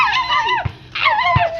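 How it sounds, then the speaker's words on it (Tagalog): A dog whimpers and whines close by in two long, wavering, high-pitched cries, each sliding downward and ending with a soft thump, separated by a short pause. "Mukha pong aso!"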